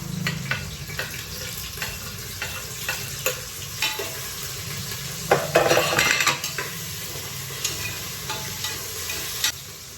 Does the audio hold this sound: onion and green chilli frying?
yes